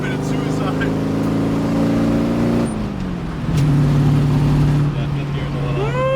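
V8-swapped Datsun with a rebuilt carburetor running a little rich, engine droning steadily as it pulls through the gears with a pitch drop at a shift, heard close and loud throughout.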